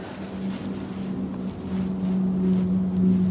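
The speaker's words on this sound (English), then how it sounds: "Beach 200 Super King, that's flying over, making a racket" A Beechcraft King Air 200 turboprop passes overhead near Manchester Airport, its steady droning hum growing slightly louder over a few seconds against a windy outdoor background.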